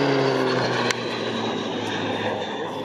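Raytheon T-6C Texan II turboprop trainer of the RNZAF making a level display pass at Hood Aerodrome, a loud sustained propeller drone with a steady tonal hum, beginning to fade slightly as it passes, with a commentator's voice faint beneath.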